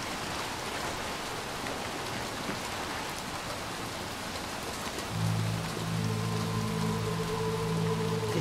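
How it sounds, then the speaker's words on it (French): Steady, close rain in the video game Little Nightmares 2 patters densely across surfaces, with a low sustained tone rising beneath it partway through. "C'est stylé la pluie et tout."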